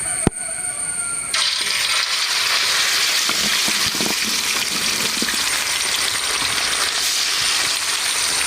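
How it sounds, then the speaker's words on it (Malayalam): Marinated pieces for chilli chicken go into hot oil: a sharp clink opens, then a loud, steady hiss of frying rises and sizzles continuously, close by, with occasional small pops. "നമുക്ക് മൊത്തം ഇട്ട് കൊടുക്കാം കേട്ടോ, കുഴപ്പമില്ല. നമുക്കിത് എണ്ണയ്ക്കകത്തൊന്നും പതുക്കിയൊന്നും മുക്കിയിട്ട് കൊടുക്കാം."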